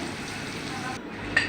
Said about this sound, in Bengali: তারপরে এখন বেগুন ভাজা হচ্ছে।